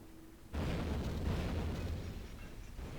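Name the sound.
torpedo hit explosion in video game Silent Hunter 3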